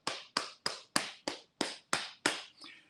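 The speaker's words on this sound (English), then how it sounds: "I clap this hard." A hand-held clapper device struck hard against the neck, nine sharp, evenly spaced slaps about a third of a second apart, close and alone, the last one softer.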